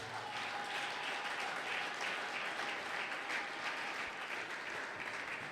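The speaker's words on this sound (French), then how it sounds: "Si tu es béni, acclame très fort le Seigneur." A church congregation at a Sunday thanksgiving and praise service applauds in a steady, continuous wash of clapping that holds at an even level throughout, somewhat distant, with no clear speech over it.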